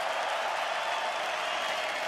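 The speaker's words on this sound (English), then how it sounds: "A round of applause for both fighters in this middleweight contest." An arena crowd at Madison Square Garden applauds both fighters after a middleweight boxing contest, a steady, dense roar of distant clapping and crowd noise with no break.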